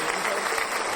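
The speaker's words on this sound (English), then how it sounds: "I'm clapping up for season finale" Hands clap in a dense, steady burst of applause for a season finale, filling about a second before cutting off abruptly.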